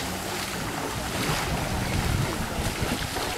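A pirogue carrying flood residents through floodwater, with steady loud wind buffeting and rushing water noise throughout and no talk heard.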